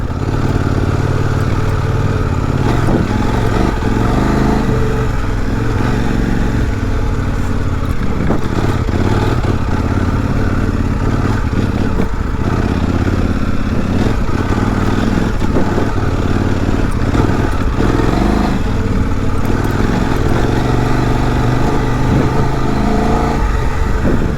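A Kove 800X Rally motorcycle engine roars continuously up close while riding off-road, loud and steady with shifting revs and rough mechanical rumble throughout.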